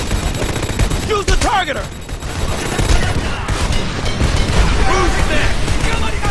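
Dense gunfire fills a Homefront video game battle, with rapid overlapping bursts and shots crackling continuously up close while soldiers shout over the din.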